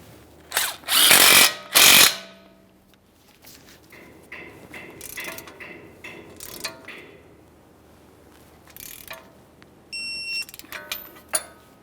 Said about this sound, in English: We'll snug this up and torque it to 76 foot-pounds